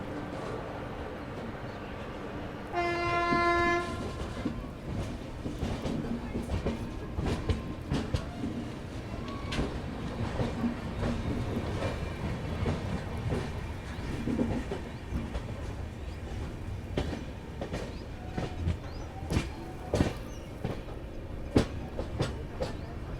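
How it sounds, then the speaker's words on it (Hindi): An Indore Intercity locomotive moving off for reversal at a railway station gives a brief harmonic horn toot, then a steady rumble with rhythmic clickety-clack of wheels over rail joints, moderately close and continuing throughout. "देखिए वो जा रहा सामने आपका इंदौर इंटरसिटी का लोकोमोटिव रिवर्सल होने"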